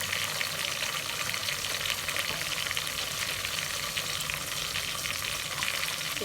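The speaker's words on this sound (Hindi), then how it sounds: "ज़रा इसको मिर्च को थोड़ा फ्राई कर लें ताकि मिर्च का अच्छा जायका आ जाए" Chili peppers fry in oil in a pan with a steady, close, continuous sizzle and occasional stirring, and no voices.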